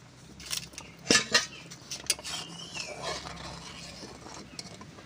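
A metal lid comes off a cooking pot of masoor lentils cooked with cucumber, making a few close metallic clinks and clatters that settle into quiet background noise.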